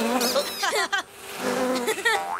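Flies buzzing in a cartoon-like scene, with wavering, whining drones that rise and fall in pitch, fairly close and persistent, broken by a short gap before returning.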